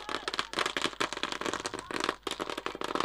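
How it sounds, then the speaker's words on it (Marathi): Firecrackers burst in rapid, dense volleys at an outdoor cricket final, loud sharp cracks and pops coming close together throughout with brief gaps. "फटाक्यांच्या आतषबाजीमध्ये"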